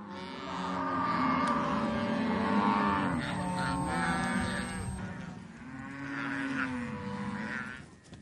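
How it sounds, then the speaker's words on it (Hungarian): Cattle on the Argentine pampas moo in long, overlapping low calls, several animals lowing one after another, fairly close and loud in open country. "A marhák messze, a pampa mélyén legelnek, 30 kilométerre a farmtól."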